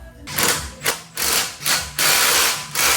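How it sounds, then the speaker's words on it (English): A wrench works a bolt down on the upper control arm of a 2025 Toyota Land Cruiser during a lift install, producing several close, loud bursts of mechanical whirring and ratcheting separated by brief pauses. "Now onto this little bolt, and you just torque those down."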